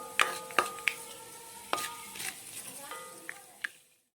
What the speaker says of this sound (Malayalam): വെളിച്ചെണ്ണ നന്നായി ചൂടായിട്ടുണ്ട്. അതിലേക്ക് നമുക്ക് ഉലുവ ഇട്ട് കൊടുക്കാം.